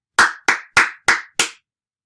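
Five crisp hand claps in a steady, even rhythm, close and loud, with clean silence between each clap.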